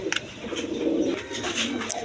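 A colored Rajgolla pigeon cooing: a soft, low cooing phrase swelling and fading once, close and fairly quiet, with faint background chatter.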